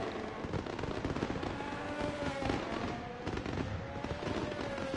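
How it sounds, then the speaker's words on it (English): Fireworks go off in the background during the Singapore Grand Prix in the F1 23 racing game, a continuous, dense crackle of rapid pops and bangs layered over the steady whine of engines. "we have a fireworks in the background"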